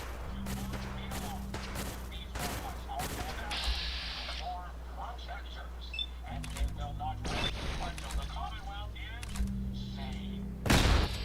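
Laser gunfire in the video game Fallout 4, a rapid series of sharp zapping shots and thuds over a steady game background hum, with a person talking over the shooting and a louder blast near the end.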